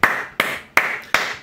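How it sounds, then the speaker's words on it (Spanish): Four single hand claps, loud and evenly spaced, with no voices. "os aplaudo."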